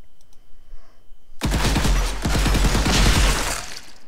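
An auto pistol in the FPS Game Starter Kit starts firing after a quiet lead-in, a fast stream of close, punchy shots over a heavy low rumble that holds to the end.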